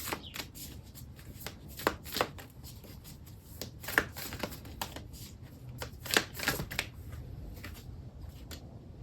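A Moonology Oracle card deck is shuffled by hand close up, quick papery riffles and taps in irregular bursts, soft and alone.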